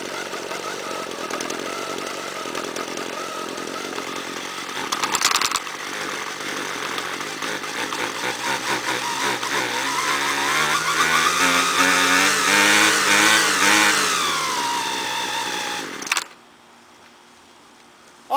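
A STIHL string trimmer engine runs nearby with a loud, buzzing two-stroke drone that revs up and climbs in pitch, holds high, then cuts off abruptly into near silence.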